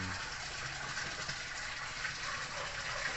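A small waterfall pouring into a koi fish pond, a steady close gushing and splashing of falling water that runs evenly without pause.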